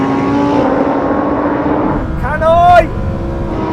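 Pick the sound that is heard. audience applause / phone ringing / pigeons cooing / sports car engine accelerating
sports car engine accelerating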